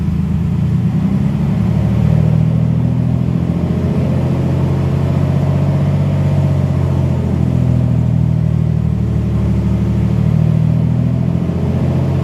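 Mercedes SL600 engine running in first gear, held near 1500 RPM, a steady close low hum with slight swells in pitch as the revs drift, no talking.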